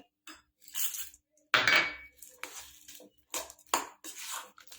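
A spoon scrapes and clanks against a kadai in separate bursts as roasted chickpeas (daliya) are stirred into hot jaggery syrup for chikki, the strokes close and clear with short pauses between them.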